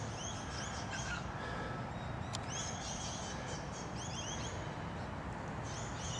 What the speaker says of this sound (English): You can hear a number of other birds.